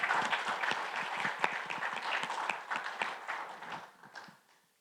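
An audience at a candidate meet-and-greet night applauds the candidates, steady dense clapping that holds for several seconds and then fades away to silence.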